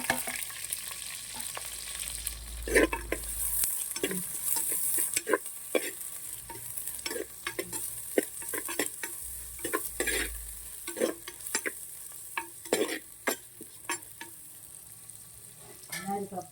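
Onions frying with cinnamon, cloves and fennel, a soft sizzle under frequent sharp scrapes and taps of a spoon stirring in the pan, close and without talk.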